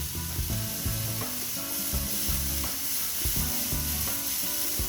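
Spinach hits a hot pan of Florida vegetable stir fry, setting off a loud, steady sizzle mixed with scraping and stirring clatter.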